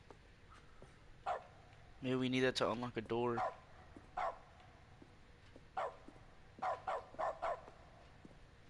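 Several short, faint barks from a dog in a bucket in The Stanley Parable video game, scattered singly and then in a quick cluster of four, with someone talking briefly in between.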